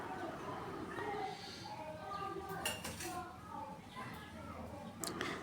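Metal spoon clinking and scraping against a pan on a stove while pressing bread flat for toasting, light repeated taps and scrapes over a soft background hiss, with a voice talking faintly throughout.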